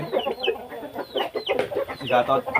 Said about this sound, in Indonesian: ayam baru sudah ada di Pokawi Farm